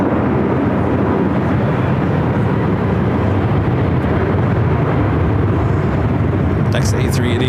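A Southwest Airlines Boeing 737-800 arriving at LAX from Denver produces a loud, sustained roar of jet engines that persists throughout, with brief chatter appearing near the end.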